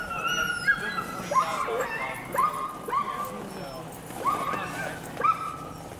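A large team of roughly sixty sled dogs at Mt. Bachelor on a snowy mountain bark and yip in repeated bursts, high excited cries overlapping in rhythmic waves, loud and close.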